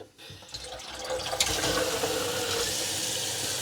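Water runs into a pot being filled for porridge, a steady gushing stream that starts after a brief clatter and continues evenly at close range.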